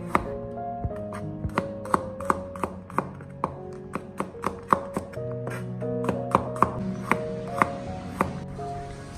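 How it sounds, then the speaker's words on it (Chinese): A knife taps rapidly and steadily on a cutting board while garlic is sliced thin for a spicy stir-fried cauliflower dish. The chops are close, crisp and evenly paced. A quiet tonal hum sits underneath. "再准备30克大蒜，将大蒜切成薄片"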